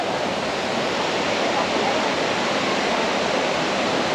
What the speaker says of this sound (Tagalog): nakikita na namin yung sinasabing Puray Waterfalls